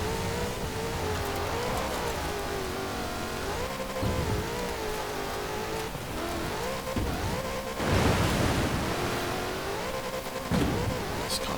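Car tyres spin and slide on wet off-road ground in Forza Horizon 4, a steady engine drone with rising revs and a gritty, splashing wash through puddles, loudest near the end.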